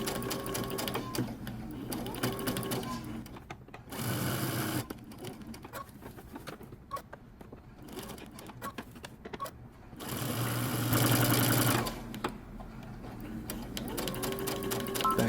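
A sewing machine back stitches a men's button-up shirt in short, close whirring bursts separated by quiet pauses, with a brief run near the start and a longer one later.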